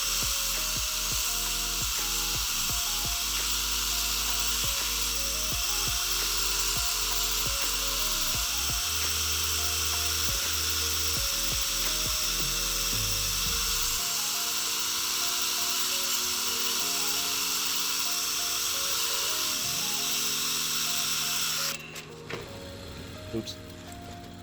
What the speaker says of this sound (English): Let's go ahead and grind and see how different it feels.